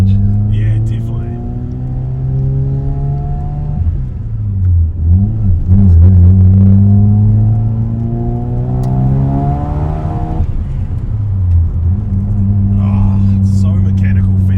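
Engine of an old Japanese car with a brass button clutch, revving through gears while driving, a strong low drone rising and falling in pitch with each shift, close and loud, speech over it at moments.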